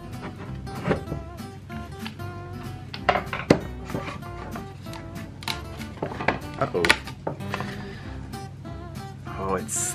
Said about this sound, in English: First step is to remove these clamps.